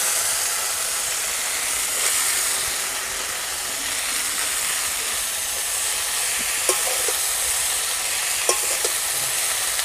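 Shredded cabbage sizzles and fries in a pan with turmeric and salt, a steady loud hiss with a few light stirring clicks, no voices.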